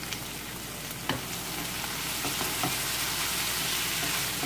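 Cabbage and chili peppers fry in a pan for vegetable spaghetti, a dense, steady sizzle with a few sharp crackles and a faint stir, close and unbroken, with no voices.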